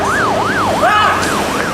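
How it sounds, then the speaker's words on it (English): Loud, close ambulance siren wails in a steady rising-and-falling sweep, repeating about every third of a second and filling the whole moment with no other sound above it. "the ambulance is here now"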